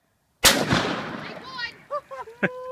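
A single sharp, loud gunshot from a firearm firing reloaded ammunition, ringing out briefly before voices speak afterward.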